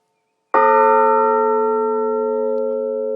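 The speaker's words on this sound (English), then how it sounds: "And hit the bell." A stationary bell struck once by a rope-pulled tolling hammer, a clear single strike followed by a long, slowly fading ring with steady overtones, alone and close.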